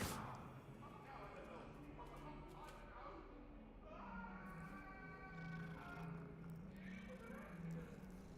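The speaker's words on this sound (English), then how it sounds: "Oh, it's a cat!" A cat in the video game Hogwarts Legacy gives several drawn-out meows, moderately close, over game ambience and a player talking excitedly.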